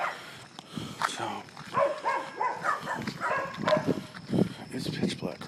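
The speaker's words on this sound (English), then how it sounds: "so they're just barking through the blinds" At night, several dogs behind window blinds bark in repeated bursts, muffled and mid-distance, mixed with a person talking over them.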